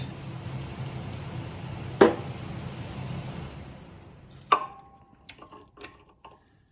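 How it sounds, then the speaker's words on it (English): A ratchet socket works on the alternator bolt of a Toyota Highlander: two sharp metallic clicks a couple of seconds apart, then a short run of lighter quick clicks, close up with no talking. "Nice thing about our socket is you can get a few clicks to orient the handle exactly where you want it."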